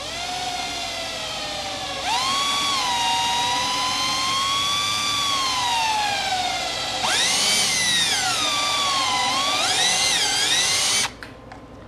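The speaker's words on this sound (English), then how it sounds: "the drill will go through there without the puck spinning" An electric drill bores through a Corvette jacking puck with a loud, whining tonal buzz. The pitch climbs as the trigger is pressed harder in two surges, and the sound cuts off abruptly at the end.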